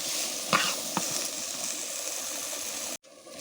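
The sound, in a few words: mixing boiled potatoes with spices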